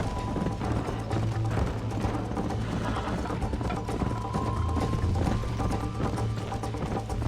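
Horse hooves clip-clop steadily and close in Red Dead Redemption gameplay, a continuous trotting rhythm over a low droning background.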